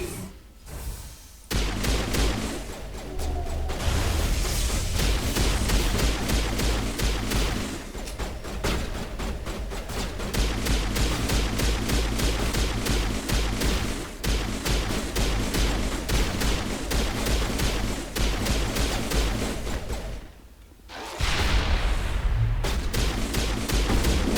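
Sustained pistol gunfire in the shooter game Mass Effect 1, dense rapid shots stacked with impacts and booms, loud and nearly continuous for most of the stretch with a couple of brief pauses.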